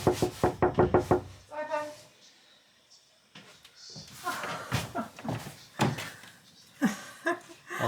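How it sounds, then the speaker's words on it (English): A burst of rapid knocks on a wooden surface inside a boat, about eight quick close raps in a row, followed by a quieter stretch and a voice speaking. "Knock on the Wicked Witch of the West's house"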